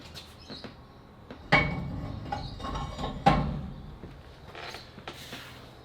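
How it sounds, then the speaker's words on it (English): Metal weight plates loaded onto a side pressure training apparatus, with two sharp clanking impacts a couple of seconds apart amid lighter clicks and rattles in a quiet room. "So the first weight that I'm going to put on is a total of 30 kilos loaded on"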